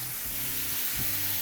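Softened, slightly translucent zucchini sautés in a pan for a shrimp peperoncino pasta, making a close, even sizzling hiss that holds steady through the short moment.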